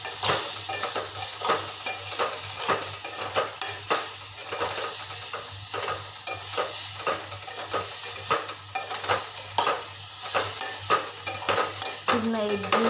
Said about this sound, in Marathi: पूर्ण एकजीव होईपर्यंत भाजीला छान असं परतून घेते